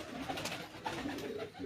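A pigeon coos softly in a low, rolling repeated call, a bit distant over faint background noise, with no talk.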